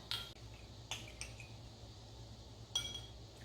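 Spoon clinking and scraping against a bowl while stirring rice-cake (kongseolgi) mixture with sugar-water, a few sharp clinks spaced out over a low steady hum, close and fairly quiet.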